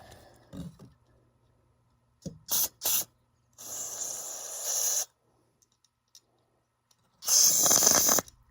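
Compressed air blows in short bursts while servicing the carburetor of a 2008 Yamaha Rhino Special Edition: two quick sharp blasts, then a longer steady hiss of about a second and a half, and finally a loud close blast near the end.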